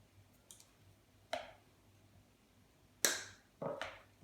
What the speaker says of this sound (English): What I'll do is I'll cut the plug off first.